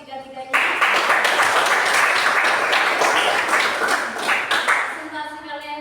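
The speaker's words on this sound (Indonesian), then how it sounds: "Berikan aplaus ketiga-tiganya." Students give a classroom full of sustained applause to three presenters after a lesson. The loud, dense clapping starts abruptly and runs for about five seconds before it tapers, with voices briefly before and after.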